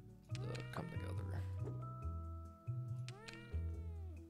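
Cat meows in the puzzle video game Cats Organized Neatly, several short mews over a looping low musical background, with brief voice-like sounds mixed in.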